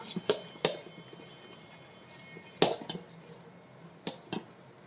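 A spoon mixing horsegram dosa batter in a bowl, several sharp clinks and taps of metal against the bowl with soft swishing between, close and fairly quiet.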